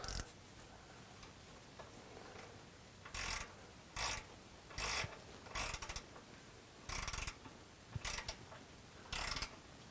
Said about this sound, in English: I'm going to use a gear wrench to do this.